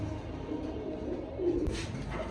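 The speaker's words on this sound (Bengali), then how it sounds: "মন্ডিয়া নর কবুতর দেখেন এটা নন স্টপ ডাকে" A male Mondiya pigeon coos in soft, repeated low calls amid background hum, with a brief brighter rustle near the end.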